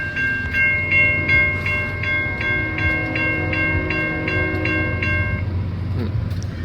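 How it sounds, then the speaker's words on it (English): A train rumbles past nearby while a crossing bell dings in a rapid, regular rhythm, then the bell stops and the rumble lingers. "the train's coming"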